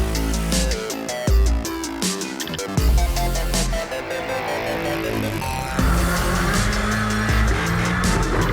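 Subaru rally cars race at the X Games, engines roaring loud and near with rapid gear shifts, surging revs and tire squeal, one continuous busy wash of motor noise.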